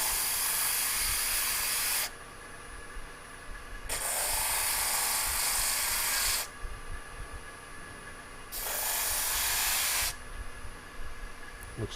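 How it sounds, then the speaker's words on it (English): Sanding the bottom of a wooden piston box spinning on a lathe gives a steady abrasive hiss in three long bursts, separated by quieter gaps of motor whir, close and fairly loud. "I can just use it and sand that bottom smooth a little bit."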